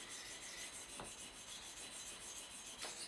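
A Spyderco M4 Manix 2 knife blade is worked on a wet 1200 sharpening stone, making a quiet steady rasping rub with a couple of brief sharper strokes, no voices.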